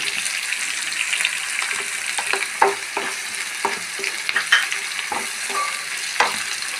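Finely chopped garlic and ginger fry in a pan for a green peas mezhukkupuratti, giving a close, steady sizzle broken by repeated sharp stirring clicks and scrapes.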